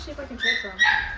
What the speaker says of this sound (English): Sorry for my dog in the background